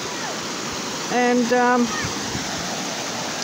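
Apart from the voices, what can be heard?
water flowing down a creek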